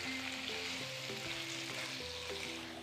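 Adobo sautéing in a pan after browning gives a steady, close sizzle throughout, with background music tones underneath and no talking.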